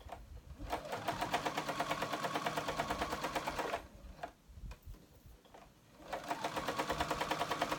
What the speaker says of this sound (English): So I'm just basting that pocket onto the blanket.